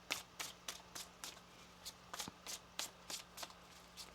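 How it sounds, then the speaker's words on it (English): A tarot deck being shuffled by hand, a run of about a dozen quick papery riffles at a steady, fairly even rhythm, close and quiet, with no talking. "One more shuffle."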